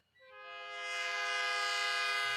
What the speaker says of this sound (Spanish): Este es el sonido que emite el convoy que transporta concentrado de cobre, bocina que según EFE debería servir de alerta a los conductores.